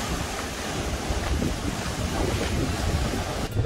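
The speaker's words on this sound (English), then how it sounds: "It's a little bit windy here." Strong wind buffets the microphone at Mayan ruins on the south side of Isla Mujeres, a steady loud roar with surf-like rushing throughout, alone without talk.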